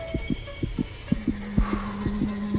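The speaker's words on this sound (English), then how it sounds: "It doesn't help that I can hear my heartbeat." Heartbeat effect in the Korean horror game White Day: A Labyrinth Named School, a steady thumping double pulse repeating about once a second over a low drone and a faint tone.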